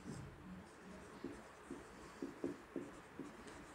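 Pen writing an accounting journal entry on paper, quiet scratching strokes with a few sharper taps, close and faint.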